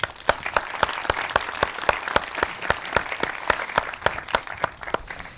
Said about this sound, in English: I hope you can join me with a round of applause to Mario García Torres